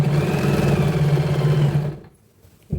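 A sewing machine stitches lehenga fabric with a steady, close mechanical whir for about two seconds, then stops, leaving a brief quiet before a small clunk.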